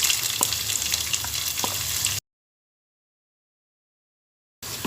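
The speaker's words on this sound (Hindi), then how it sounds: "लहसुन अदरक को थोड़ी देर भूनने के बाद इसमें मैं डाल दूंगी 1 मीडियम साइज़ की चॉप की हुई प्याज।" Chopped onion added to garlic and ginger already sizzling in a pan for aloo palak, giving a steady broadband frying hiss for about two seconds before a cut to silence, then resuming briefly.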